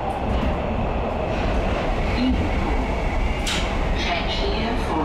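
A Nuremberg U-Bahn line 1 subway train rumbles along at a steady, loud roar, with a constant low drone and faint rail clatter throughout.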